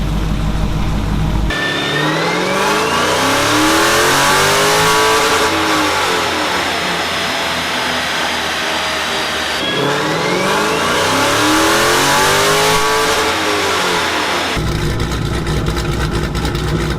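A Mopar car engine on a dyno during tuning is revved in two long sweeps, each climbing loudly from idle to a high wail and falling back, with a steady idle rumble between and after.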